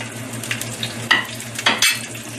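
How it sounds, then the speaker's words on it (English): Dry hot chili and green onion crackle in hot vegetable oil in a wok, with a few sharp bursts of sizzle and stirring over a low steady hum, close and moderately loud. "Now we're going to add in the dry hot chili and the green onion first."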